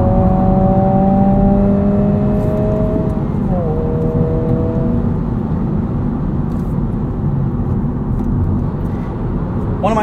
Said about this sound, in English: One of my only complaints is road noise, and you can hear it here on the highway.